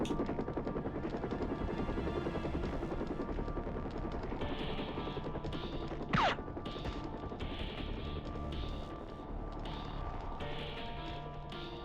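A helicopter's rotor chops steadily at a moderate distance in the video game 007: Tomorrow Never Dies, with one sharp impact sound cutting through partway along.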